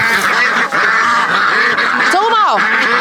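A flock of ducks quacks and honks in a dense, overlapping chorus while being fed grain in a rural yard, with one louder rising and falling call standing out near the end.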